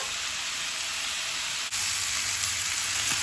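Chicken pieces and chorizo browning in a hot pan give a steady, dense sizzle throughout, with a brief dip midway before the frying noise resumes slightly fuller and louder.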